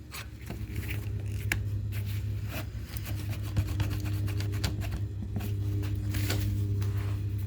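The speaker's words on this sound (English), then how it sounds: "I'm going to clamp this down to the table." A metal casting flask being clamped down to a table, with scattered small clicks and rubbing scrapes over a constant low mechanical hum.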